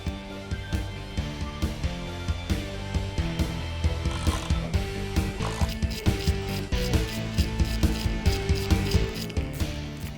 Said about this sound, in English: So we're taking the T40 to unscrew the 2 bolts that are on either side of the front visor on the driver's side.